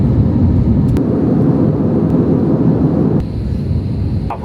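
A passenger airplane touches down in Bahrain, heard from inside the cabin as a loud low roar with a few sharp clunks, the rumble dropping in level partway through.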